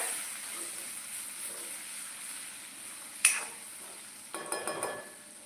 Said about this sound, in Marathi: मी अद्रक लसूण टाकून घेतले ते थोडंसं परतवून घेऊया